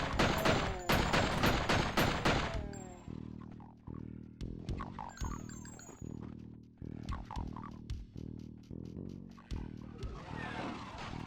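Rapid bursts of gunfire from the video game Hideous Destructor, loud sharp cracks at first, then repeated shots of varied weight with game creature growls mixed in, close and steady throughout.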